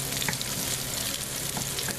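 Onions fry in a pan with a bright, steady sizzle, a constant close hiss with small pops and a few stirring scrapes.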